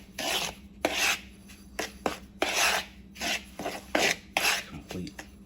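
Flour and cornmeal being mixed by hand into chicken pieces for cornmeal fried chicken, heard as close, rhythmic rough rubbing and rasping strokes in short bursts of about half a second each, with no talk.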